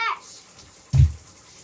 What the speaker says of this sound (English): Mama, washing Brutus.